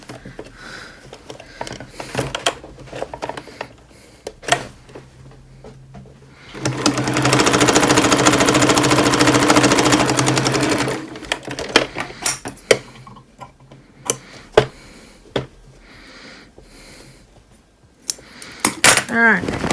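A sewing machine stitches a seam on damaged jeans in one loud, continuous run of about four seconds, surrounded by scattered clicks and handling noises before and after.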